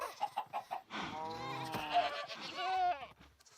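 Goats bleating in Minecraft, a run of short nasal in-game bleats among other farm mobs, fairly close and steady with no talk over them.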